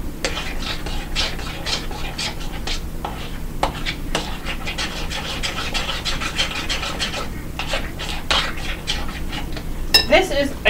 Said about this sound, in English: we added peanut butter. Stir to mix in. So we're just going to stir it as before.